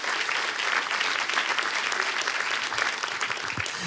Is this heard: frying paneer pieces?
no